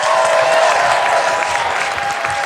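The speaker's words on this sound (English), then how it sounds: "Round of applause for Foster," A live audience at a comedy podcast taping in Brookline applauds, a dense, steady wash of clapping from a full room that carries loudly and evenly throughout, with faint cheering mixed in.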